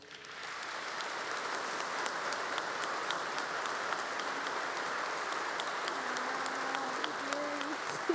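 Sustained audience applause fills the room for several seconds as a speaker is welcomed onto the stage at a Robin Hood Heroes awards event, steady and dense throughout.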